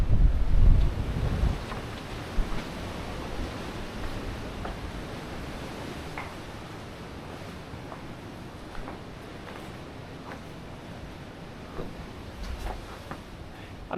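Wind gusts through a narrow gorge in Walker Bay Nature Reserve, a steady broadband rush with heavy buffeting on the microphone at the start, then settling into a continuous roar.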